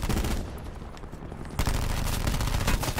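Video game gunfire comes in rapid bursts of loud, near shots. There is a brief lull partway through before a denser automatic volley resumes.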